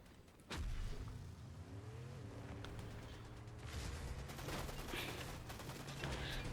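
Nearby gunfire from a fight in the video game Fortnite, a sharp shot opening a steady rattle of distant weapon fire and game noise that runs on throughout.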